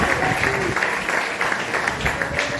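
A church congregation applauding to acclaim the Lord, steady dense clapping from many hands close by with a few voices mixed in.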